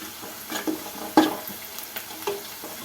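Onions sautéing with salt in a pan, a soft steady sizzle broken by a few scrapes and taps of a stirring spoon, one louder clatter in the middle.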